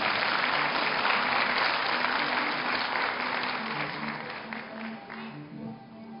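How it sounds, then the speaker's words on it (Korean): Sustained applause from a large audience at a university degree-conferral ceremony, honoring a social welfare graduate receiving the president's award; dense, steady clapping that slowly thins toward the end, with no voices over it. "큰 박수로 축하해 주시기 바랍니다"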